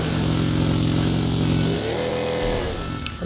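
Motorcycle engine in the PUBG Mobile video game, a steady loud drone with low harmonics that shifts pitch slightly partway through, running continuously throughout.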